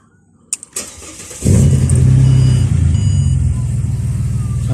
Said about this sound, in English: Car starts, spring loads back.